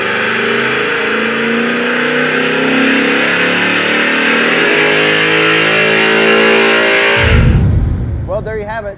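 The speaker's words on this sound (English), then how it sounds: "Dyno tune time." A custom-built 1964 Chevy Impala engine roars on a dyno, a long loud sustained rev holding near steady before cutting off abruptly, followed by a brief voice and fading mechanical noise.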